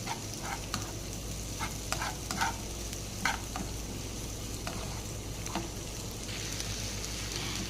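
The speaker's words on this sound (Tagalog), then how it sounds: "ilagay natin ang sibuyas. Haluin." Onion is stirred and sautéed in a pan with garlic, giving a steady close sizzle under a low hum, with a handful of sharp spatula scrapes and taps clustered early on.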